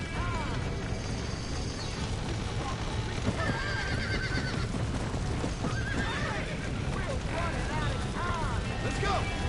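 A horse in a video game neighs and whinnies several times over a dense bed of game noise, with hooves clip-clopping and voices in the mix throughout.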